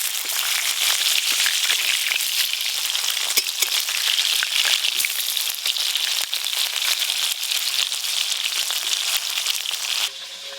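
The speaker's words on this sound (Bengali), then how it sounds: "এই মাছগুলো একবার করে উল্টে দেব।" Fish sizzles and crackles steadily in hot mustard oil just after being turned in the pan, a dense, continuous close-up spatter with no talking.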